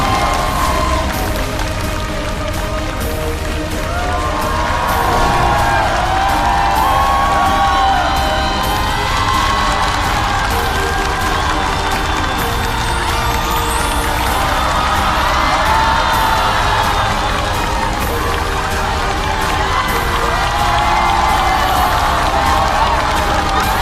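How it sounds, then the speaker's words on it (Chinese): A studio audience at a Chinese roast comedy show cheers, whoops and whistles to welcome the guests, a dense, loud crowd roar that holds steady from start to finish. "掌声欢迎今天的嘉宾们。"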